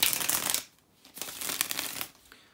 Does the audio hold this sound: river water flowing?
no